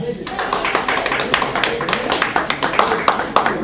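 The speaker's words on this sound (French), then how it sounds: "est-ce qu'il serait possible de finir par des acclamations?" An audience at a village school project forum applauding and cheering, dense continuous clapping with voices mixed in throughout, fairly loud and close.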